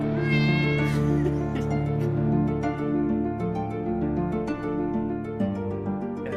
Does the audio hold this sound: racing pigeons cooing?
no